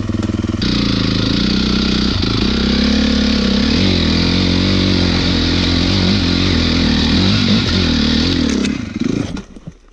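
A dirt bike engine revs loud and close throughout a trail ride, its tone rising and falling with the throttle before cutting out abruptly at the end.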